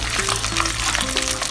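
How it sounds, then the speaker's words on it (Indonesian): Anchovies (ikan bilis) fry in hot oil in a home kitchen, giving a steady, close sizzle and crackle throughout with no one talking. "sambil tu kita goreng ikan bilis."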